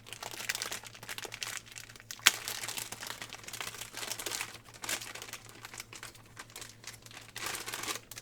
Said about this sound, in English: now that we're over the crinkle